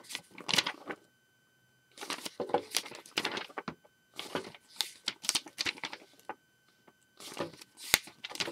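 Plastic Lego Bionicle parts from the 2004 Toa Metru Whenua and Nuju sets click, rattle and crinkle in bursts while being assembled, close and fairly quiet, with short pauses between clusters of handling noise.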